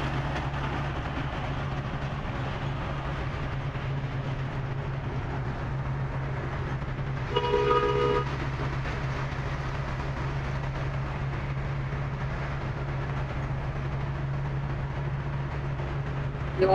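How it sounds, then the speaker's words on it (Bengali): A train crosses the Jamuna (Bangabandhu) bridge between Tangail and Sirajganj, a steady low rumble of rolling wagons heard from nearby and holding level throughout, with a brief brighter clatter midway and no talk. "আমার সামনে দিয়ে ট্রেন যাচ্ছে"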